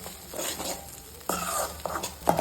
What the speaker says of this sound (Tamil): சுத்தாம அப்படியே எண்ணெயிலேயே நல்லா வதக்கிவோம்